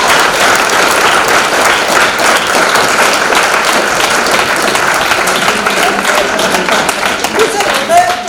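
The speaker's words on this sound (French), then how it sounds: "Je propose que tout le monde applaudisse monsieur Héla." A crowd at a retirement gathering applauds steadily for a retiree, with dense, sustained clapping that stays loud and even throughout, with no break or fade.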